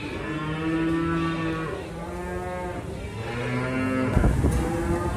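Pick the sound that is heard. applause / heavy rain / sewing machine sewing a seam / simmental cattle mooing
simmental cattle mooing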